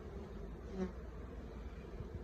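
Honeybees at a Flow Hive hum in a soft, continuous buzz close to the microphone, with a brief louder swell as one passes near.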